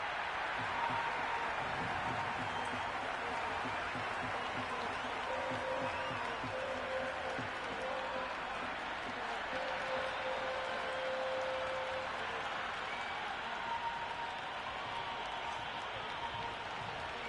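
A cricket crowd in the video game Cricket 26 claps and cheers in a continuous, steady wash of stadium noise, at moderate volume and unchanging throughout.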